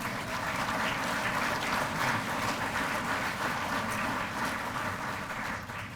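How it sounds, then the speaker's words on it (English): A room full of people at a chamber of commerce awards dinner applauds, steady dense clapping that holds throughout and tapers slightly at the end. "please give them a round of applause"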